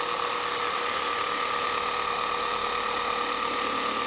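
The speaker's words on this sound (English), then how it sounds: "make sure you stop the polisher on the vehicle surface" Steady electric whine of a polisher buffing car paint with Rebuild 2000 medium cut compound, constant and close with no pause.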